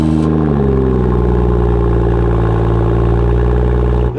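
A tuned stage 1 car making 437 hp idles loud and close with a steady, deep rumble, shifting to a heavier tone just after it settles, then cutting off with a brief change near the end; no one speaks over it.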